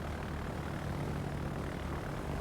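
Carrier aircraft in World of Warships flying on a steady propeller engine drone, a continuous droning hum with no talk over it.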